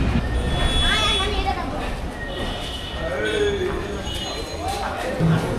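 Kanchan commuter train standing at Chirirbandar station, a steady rumble and hiss of the halted train with faint metallic clanks and squeals, voices murmuring close by throughout.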